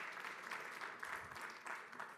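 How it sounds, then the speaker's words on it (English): A crowd at a startup presentation event applauds steadily and fairly close for a couple of seconds, a continuous wash of many hands clapping with no talk over it. "let's have a round of applause for Michelle"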